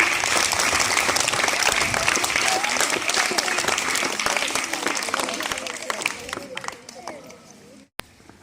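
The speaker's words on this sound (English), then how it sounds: "Clap loudly." An audience at a Guru Pournima school celebration claps loudly for pre-primary teachers, thick sustained applause with crowd murmur that tapers off and stops, ending with a sharp knock.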